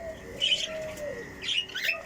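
Pet parrots eating okra give a few close, sharp chirps in two brief bursts over a quiet, faintly humming room.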